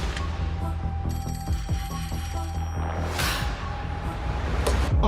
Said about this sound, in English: they race to the nearest phone to call the sheriff, Chuck Ellison.